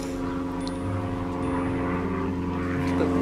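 An old propeller aeroplane drones overhead, a steady, loud, humming engine tone with layered harmonics that holds throughout and swells slightly toward the end, with no speech.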